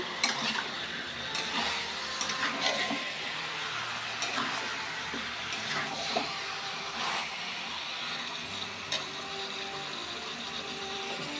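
Food fries and sizzles in a pan while a utensil scrapes and stirs it in irregular strokes, with a steady crackling hiss underneath and no talking.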